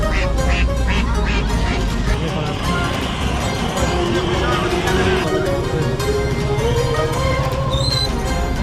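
Ducks quack amid the steady hubbub of a local poultry and bird market in Kuchesfahan, Gilan, Iran, with nearby voices talking and general crowd noise throughout.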